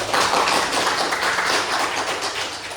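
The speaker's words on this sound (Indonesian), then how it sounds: "Tepuk tangan dulu." A classroom of students clapping together for a classmate, a dense, even patter of many hands lasting a few seconds, close and fairly loud with no talking over it.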